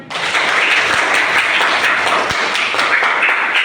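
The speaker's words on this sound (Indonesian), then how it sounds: "Tepuk tangan." Students at a junior high school clap their hands together in a classroom, a loud, dense burst of many hands applauding steadily for a few seconds without talk.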